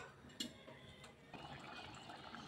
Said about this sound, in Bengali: এখন একটু ঝোলের জন্য পানি দিয়ে দিব